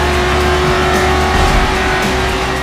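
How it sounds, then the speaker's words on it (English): Race car engine in Forza Motorsport 7 howls steadily at high revs, loud and continuous with a sustained tonal drone and dense rumble, no voices. "cranked-up sound design was busy slapping my earballs silly with a symphony of engine howl and exhaust crackle"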